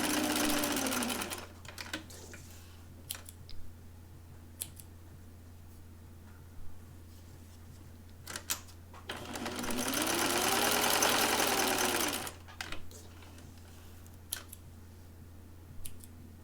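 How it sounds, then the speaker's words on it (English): A sewing machine runs zigzag stitches along the seam allowances of a princess-seam blouse, in two sustained loud bursts separated by quiet stretches with small clicks and handling noises, close up with no talking. "And now to finish the other seam allowances with a zigzag."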